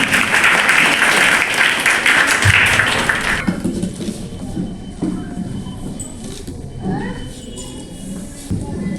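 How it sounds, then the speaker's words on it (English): Audience applause at a school annual function, loud sustained clapping for about three seconds, then fading into room noise and scattered voices. "Come on audience, please give them a big round of applause."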